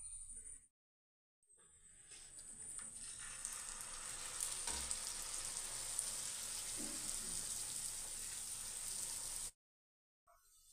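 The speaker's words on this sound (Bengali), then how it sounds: "এবার নাড়ুগুলো ময়দার গোলার মধ্যে ডুবিয়ে ভেজে নেব।" Flour-batter-dipped sweet balls deep-frying in hot white oil in a wok, a steady close sizzle and crackle that runs for several seconds with no talk, ending abruptly.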